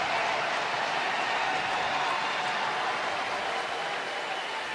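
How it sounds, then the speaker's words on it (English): Roaring football stadium crowd at a South Dakota State versus North Dakota college game, a dense, steady wall of cheering and applause sustained at full volume throughout without letting up. "Listen to this crowd."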